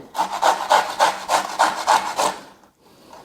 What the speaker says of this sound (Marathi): ह्या किसणीनं मी आवळे जे आहेत ते खिसून घेत आहे